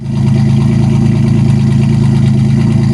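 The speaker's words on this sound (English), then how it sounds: "She got a nice sound on cold start." A car engine idles loudly and steadily after a cold start, with a deep, throbbing low rumble, no voices over it.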